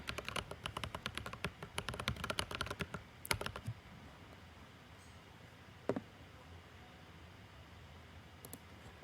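Fast, loud bursts of typing on a computer keyboard, dense clicking for a few seconds, then a pause with a few isolated key taps, close and clear with no talk.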